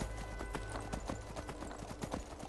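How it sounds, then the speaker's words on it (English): Horse hooves clip-clop in a steady, quick rhythm in the video game Skyrim, close and continuous over a low ambient rumble for the whole stretch. "Some kind of horse we got here."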